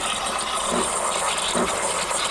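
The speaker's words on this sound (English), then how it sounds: "Fire off the steam." A De'Longhi EC680M espresso machine's steam wand froths milk in a metal cup, producing a steady, close hissing roar with faint bubbling rattle throughout.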